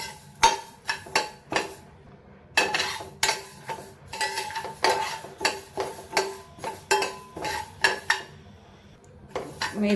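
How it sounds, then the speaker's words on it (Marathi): Fenugreek seeds dry-roasted in a kadhai on low flame: repeated metallic scrapes and clinks of a spatula against the pan come in irregular bursts, fairly close and clear, with no talking. "आणि तिला मंद आचेवर भाजून घेते।"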